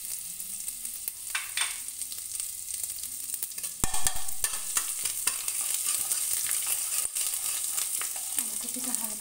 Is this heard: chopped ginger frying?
yes